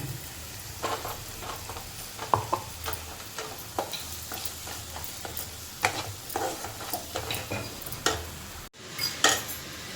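Ground onion masala paste sizzles in a pan while a spoon stirs and scrapes it in repeated clinking strokes, close and fairly quiet, for an eggplant masala curry; no one speaks.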